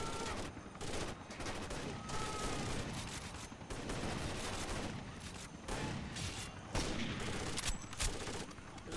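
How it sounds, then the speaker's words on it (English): Rapid gunfire from a shooter video game, with shotgun and P90 weapons in play, crackles almost nonstop in dense overlapping bursts, holding a steady, moderately loud level with brief dips between volleys. "There's a lot of shooting going on."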